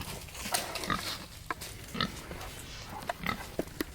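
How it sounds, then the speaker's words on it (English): Pigs grunting and snorting in short bursts, several animals close by, with scattered rustling and bumps between the calls. "There's one of the pigs."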